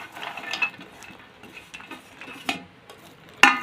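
Peanuts being stirred into a spiced batter for homemade peanut bhajiya give scattered soft scraping and clinking strokes, uneven and fairly quiet, with a sharper knock near the end.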